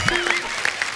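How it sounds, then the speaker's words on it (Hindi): A studio audience on a TV comedy show bursts into a short second of applause, with a voice talking over it. "एक बार जोरदार तालियां हो जाए मेरे लिए।"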